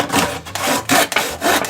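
A handsaw cutting through wood, loud close-up rasping strokes in a steady back-and-forth rhythm of about four pulls with brief pauses between, no talking.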